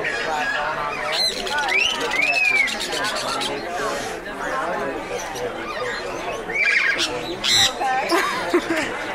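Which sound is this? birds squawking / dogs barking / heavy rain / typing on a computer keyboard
birds squawking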